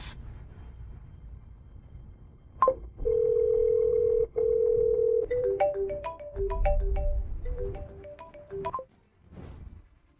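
A phone call being placed: a soft tone, then a steady dial tone, followed by a melodic electronic ringtone of rapid repeating notes, loud and close, with no voices.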